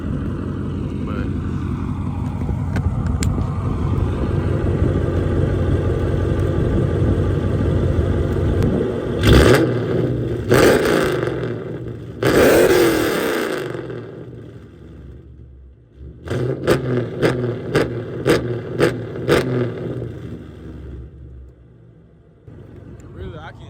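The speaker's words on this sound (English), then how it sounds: "I can rev it on the inside so y'all can see what it sounds like" A 2015 Chrysler 300 Hemi V8 fitted with BBK long tube headers idles with a loud, deep rumble and then gives several sharp revs, first longer blips and then a quick series of short stabs, heard close up.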